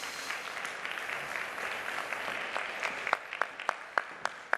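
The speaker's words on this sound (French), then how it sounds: "Une belle main d'applaudissements" Audience applause at a Quebec health professionals' event, a soft steady wash of clapping that thins near the end into a few separate sharp claps, moderately distant.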